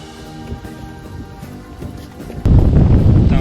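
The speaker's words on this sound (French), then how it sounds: "Pour ne rien arranger au dénivelé, il y a du vent." Wind roars against the microphone during a bicycle ride on a hilly road in Charlevoix, rising sharply louder halfway through and staying strong to the end.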